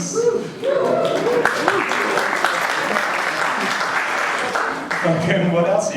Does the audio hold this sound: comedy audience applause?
yes